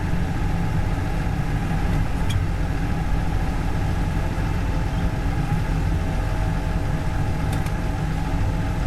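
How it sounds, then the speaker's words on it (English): A New Holland tractor engine runs steadily while the tractor pulls forward slightly, giving a loud, close, continuous low diesel rumble at a constant pace, with a couple of faint clicks and no talking. "we're gonna pull the tractor ahead just a hair"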